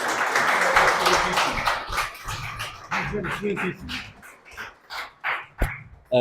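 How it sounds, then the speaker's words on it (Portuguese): Applause at a 98th anniversary ceremony greets Acácio Sousa: a burst of clapping that breaks into scattered, uneven claps, with voices and background noise mixed in. "O excelentíssimo senhor Acácio Sousa, a quem peço uma excelente salva de palmas."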